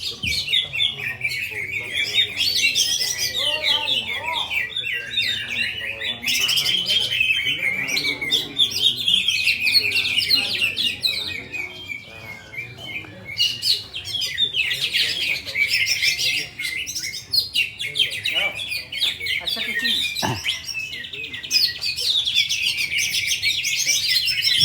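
Cucak Ijo green leafbirds at a songbird contest pour out dense, continuous high chirping and whistled phrases, several birds overlapping loudly, with crowd chatter and an announcer's voice faintly underneath.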